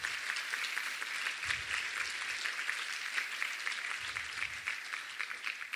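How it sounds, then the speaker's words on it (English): A conference audience at a closing plenary applauds its sponsors with a steady, fairly faint round of clapping that runs throughout, with a couple of low thumps underneath. "Can we have a round of applause for all of our sponsors?"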